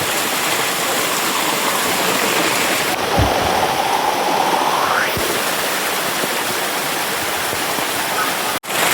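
Steady, loud rush of rainwater flowing through a village drain fills the whole stretch, a dense continuous roar with a brief thump near the middle.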